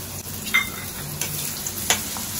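Onion goes into hot oil with whole spices, cardamom, cinnamon and black pepper, setting off a loud close sizzle with a few quick stirring clinks.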